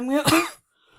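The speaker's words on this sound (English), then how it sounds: "I'm so sorry about pausing this and coughing" A single short, harsh cough, close and sharp, followed by brief quiet.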